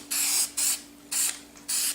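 Primer spray paint hisses from an aerosol can onto a Nerf gun in four short, even bursts separated by brief pauses, close and fairly loud.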